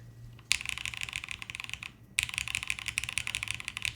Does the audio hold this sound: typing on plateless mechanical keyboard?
yes